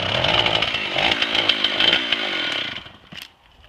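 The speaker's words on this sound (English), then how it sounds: "first experience with the chainsaw." Loud, close chainsaw engine roaring and sputtering unevenly as it is started, then dying away abruptly near the end as it stalls.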